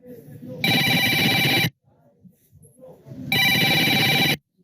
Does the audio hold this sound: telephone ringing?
yes